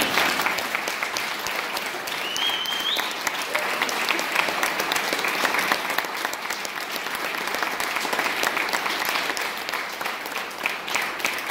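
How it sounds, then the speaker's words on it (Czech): A large audience gives a standing ovation at a book launch for the novel Hodiny z olova. The applause is dense and sustained, with many hands clapping at a steady, loud level for the whole stretch and no break. "Takže poprosím, tleskat ve stoje."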